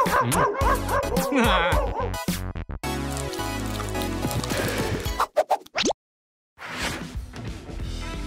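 Several dogs bark and yip in short, quick bursts, close and loud, mixed with busy, bright background sound and a brief silent gap near the end.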